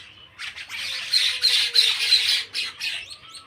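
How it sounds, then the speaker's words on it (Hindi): Birds in a village squabble with crows, letting out a run of harsh, rapid squawks close by, rising and falling in irregular bursts. "कौआ से लड़ रही हैं"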